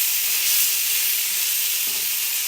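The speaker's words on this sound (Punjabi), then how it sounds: "ਇਧਰ ਆਪਣਾ ਜਿਹੜਾ ਹੈ ਪਿਆਜ਼ ਹੈ ਇਹ ਵੀ ਭੁੰਨਿਆ ਜਾ ਰਿਹਾ ਹੈ" Onions browning in a pan for Punjabi-style paneer bhurji give a steady, loud broadband sizzle, a continuous hiss with no break and no voices.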